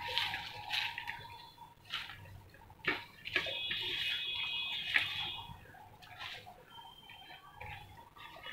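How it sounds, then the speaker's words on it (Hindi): Spinach leaves go into a pot of salted water coming to the boil in a home kitchen, giving soft bubbling and a few light splashes and knocks at moderate-to-faint level, with no talking. "पानी हमारा बॉईल होने आया है, इसमें थोड़ा सा नमक डाल के पालक डाल देंगे।"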